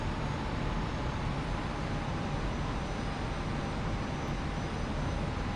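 Steady, unbroken drone of Ilyushin IL-76 jet engines in a flight video game: loud, constant broadband roar with no voices over it.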